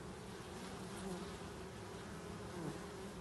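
Honeybees hum steadily around a hive, a dense continuous buzz at close range with no talk, holding even loudness throughout.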